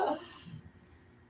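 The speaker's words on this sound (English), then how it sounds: "That's my dog." A dog barks in a home yoga class: one short, close bark at the start and another abrupt one at the end, with quiet room tone between.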